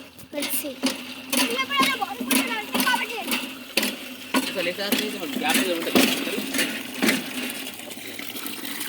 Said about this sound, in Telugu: సో మా అన్న ఇప్పుడు బోరింగ్ కొడుతుండు.